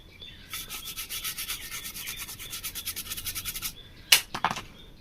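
Brushing and scrubbing across a freshly soldered IC on a Preethi Trendy Plus mixer panel circuit board, a run of quick rhythmic rubbing strokes, close and fairly soft, followed by a couple of sharper scratches, with no voices.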